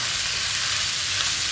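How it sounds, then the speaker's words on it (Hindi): Cabbage and mixed vegetables sauté in a pan for a chicken vegetable Chinese biryani, giving a loud, constant close-up sizzle with faint stirring texture and no talking. "वेजिटेबल्स हमारी सॉटे हो चुकी हैं।"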